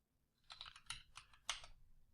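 Quick bursts of clicky keystrokes on a small 60% computer keyboard, several taps in a short uneven run, close but fairly quiet, with no speech.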